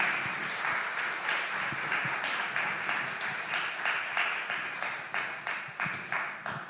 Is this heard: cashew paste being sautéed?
no